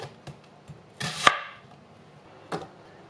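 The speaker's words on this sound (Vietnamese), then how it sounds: "Củ cải thì mình cắt 1 cm" Knife chopping daikon radish on a cutting board: a few sharp, close cuts, one louder crunching chop in the middle and another near the end, with small taps between and no voices.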